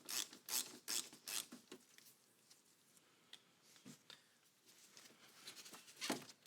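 Battery terminal nut being loosened on a 1995–2004 Toyota Tacoma 2.4L, a burst of quick rasping ratchet clicks followed by scattered softer scrapes and one more short ratcheting run near the end.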